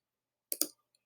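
A mouse double-clicks on a Mac computer, two sharp, quick clicks close together in otherwise near silence, followed by a faint tick.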